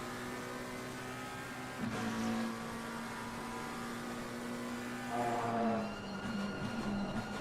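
A McLaren GT3 race car engine drones steadily in a racing video game, its pitch climbing and dipping through gear changes as the car runs in a championship race.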